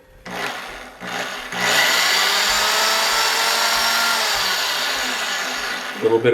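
A drill runs steadily and loudly while a knife handle is being worked on, starting with a couple of short bursts before settling into a continuous, close, even whine.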